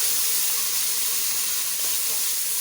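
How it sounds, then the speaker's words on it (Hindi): Garlic ginger paste frying with onions in oil, giving a loud, steady, hissing sizzle with a faint rustle of stirring. "अब हम इसमें लहसुन अदरक का पेस्ट शामिल कर देंगे। इसको 30 सेकंड तक फ्राई कर लेंगे"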